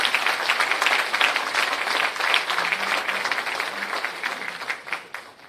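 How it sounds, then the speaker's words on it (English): Audience applause at a graduation ceremony for a sexual harassment investigation training course, a crowd clapping steadily for several seconds before thinning out and tapering off toward the end. "I think we need to give a clap"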